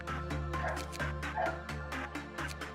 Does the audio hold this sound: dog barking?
yes